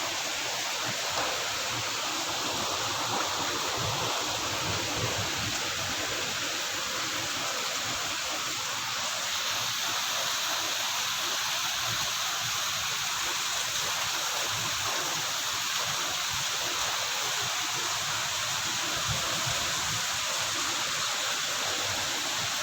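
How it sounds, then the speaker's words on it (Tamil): Heavy monsoon rain pours steadily over Mayiladuthurai in Tamil Nadu, a dense, even hiss that holds at a constant level for the whole stretch, with no voices. "அரை மணி நேரத்துக்கு மேலாக கனமழை பொழிந்து கொண்டிருக்கிறது மயிலாடுதுறையில்"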